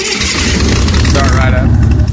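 Engine on a cheap one-ton welding rig cranking and catching, a loud, close, dense rumble that runs steadily through the short moment.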